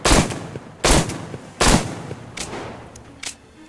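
Gunshots in the video game Metro Exodus, five loud sharp reports spaced under a second apart, the later ones slightly weaker, each trailing off in a short echoing decay.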